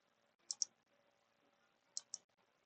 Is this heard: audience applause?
no